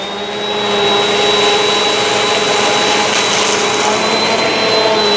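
A Bissell CleanView Compact upright vacuum cleaner switches on and runs steadily on carpet, its loud, even motor whine holding with a high tonal edge, with no talking.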